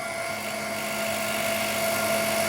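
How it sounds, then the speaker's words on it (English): Compressed air hisses steadily from a laser cutter's air assist nozzle aimed at the cut kerf, a loud broadband rush with steady tonal whine, constant and unbroken throughout. "I'm pointing the air at the kerf"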